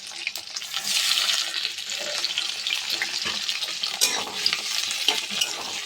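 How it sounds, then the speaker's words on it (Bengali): Chopped onion and tomato frying in a pan with bay leaf, a steady close sizzle with scattered stirring scrapes and clinks throughout. "পেঁয়াজ টমেটো এগুলোকে লাল করে ভেজে নেব।"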